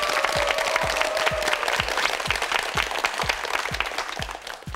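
Steady applause from a studio audience on a Korean TV word quiz show, a dense even wash of clapping held for several seconds with no talking over it.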